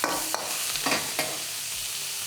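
Prawns stir-frying in oil in a wok make a loud, continuous sizzle close by, with a few quick scrape-like bursts as they are tossed and no talking.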